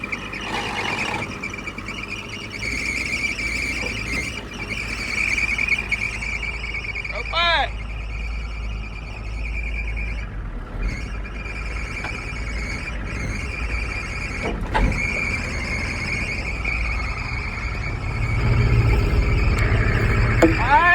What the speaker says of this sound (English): we got some belts squeaking here.